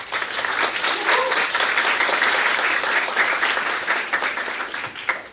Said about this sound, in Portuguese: por favor, uma salva de palmas para o Leonardo